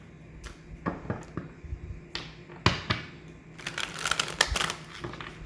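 Tarot cards being shuffled by hand, a run of soft papery riffles and clicks in uneven bursts, building into a denser flurry of card flicks toward the end.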